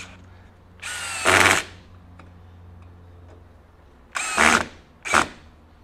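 DeWalt DCD794 stubby cordless drill driving a drywall screw in three short loud bursts of whirring, the first longest, with quiet gaps between them.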